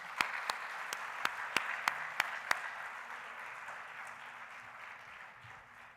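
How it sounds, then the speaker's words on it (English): Audience applause at a children's welfare forum, with a handful of sharp, evenly spaced claps close by standing out over softer, fading clapping from the room. "So give them a round of applause."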